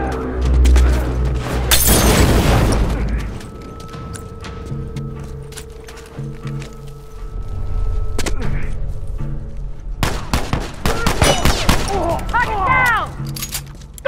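In The Last of Us, a grenade explodes in a loud boom followed by scattered gunshots and impacts, with voices calling out between the blasts.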